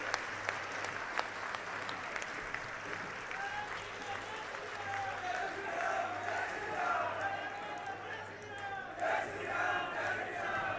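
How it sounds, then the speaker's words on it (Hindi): A crowd welcoming the Haryana chief minister, Nayab Singh Saini, claps from a distance, then breaks into loud rhythmic chanted slogans and cheering, with the noise swelling in waves. "जोरदार तालियों से स्वागत"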